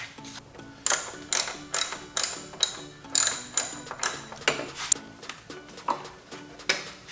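Torx screw on a BMW N54 fan shroud being backed out with a driver, giving a steady run of sharp, evenly spaced ratcheting clicks, close up and loud, with no talking.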